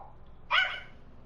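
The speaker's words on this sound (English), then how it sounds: "My dog is barking now." A single dog gives one sharp, fairly close bark that trails off briefly, standing alone against a quiet background.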